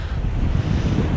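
Steady wind and surf roar aboard an Allures 45.9 sailboat under full main and genoa in 11 to 15 knots of sustained wind, a continuous loud broadband rush with low rumble and no talk.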